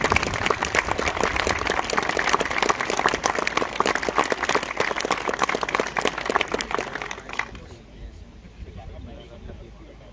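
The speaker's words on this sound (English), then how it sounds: "I think they deserve a massive round of applause." An audience at an event gives a team a sustained round of applause, dense rapid clapping that fades out near the end, with voices briefly audible.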